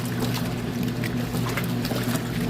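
Water swishes and sloshes continuously inside an old wringer washer over a steady low motor hum, close and moderately loud with no voices.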